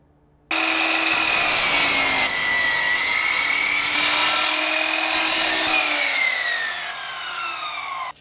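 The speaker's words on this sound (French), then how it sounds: "Alors que le panneau en bois lamellé est collé, vous pouvez le découper haut la main vous-même aux dimensions souhaitées" A saw cuts steadily through a glued laminated wood panel being sized for a kitchen countertop, producing a loud, continuous rasping drone of about eight seconds that starts and stops abruptly, with no talking.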